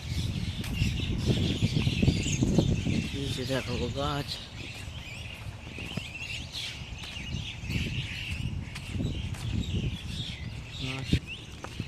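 Birds chirp and squawk intermittently in the background while a person talks over them outdoors.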